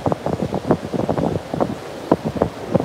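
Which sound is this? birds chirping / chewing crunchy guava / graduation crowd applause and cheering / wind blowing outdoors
wind blowing outdoors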